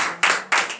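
Three quick bursts of group clapping at a morning prayer gathering, close and crisp, each burst short and separated by brief gaps.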